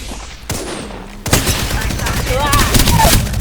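Rapid gunfire in Apex Legends, sustained bursts of shots filling the whole stretch after a brief lull, loud and close with voices talking over it.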